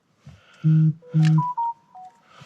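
A telephone rings inside a camper van parked in a city at night, giving a short sequence of loud, steady electronic tones, two long beeps followed by higher chirping notes, heard alone.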